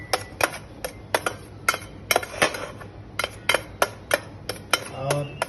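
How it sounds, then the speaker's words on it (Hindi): A spoon clinks repeatedly against a small bowl or dish while stirring a few medicine drops into kitten food, a steady run of sharp, close taps with faint background noise. "now stir this, मिक्स कर दो अच्छे से"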